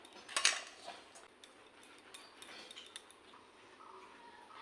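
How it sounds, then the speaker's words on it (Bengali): A knife cuts rested dough into portions for Bengali palm fruit fritters, giving a sharp clink of metal against the board followed by faint, scattered taps and light scraping in a quiet kitchen. "এখন আমি লেচি কেটে নেব।"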